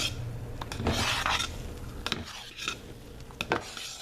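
A spoon stirs a thick honey and oats soap mixture in a bowl, giving a close, continuous scraping and rubbing with occasional light clinks against the container.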